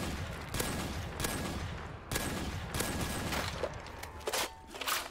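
Weapon fire in Black Ops 3 Zombies on a custom map, several sharp separated shots and short bursts ringing out up close, with no voices.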